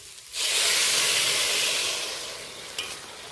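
Hot water poured into frying chana dal and soybean curry sets off a sudden loud hiss and steam rush that fades slowly, with a small clink near the end.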